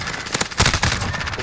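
Rapid gunfire from a 725 shotgun in a video game, a quick cluster of loud sharp blasts within about a second amid other game noise, with no talk.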